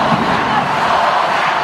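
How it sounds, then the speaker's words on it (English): A sporting-event crowd in Costa Rica gives off a dense, continuous roar of many voices, loud and even with no single voice standing out. "And there you hear the crowd."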